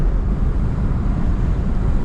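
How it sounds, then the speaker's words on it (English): Steady, roaring wind buffeting the microphone, a dense low rumble with constant gusty texture and no voices. "Very windy out too"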